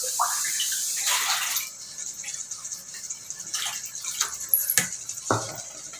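Water poured from a cup onto soaked rice for egg biryani gives a short gush and splash at the start, followed by scattered clinks, drips and stirring noises.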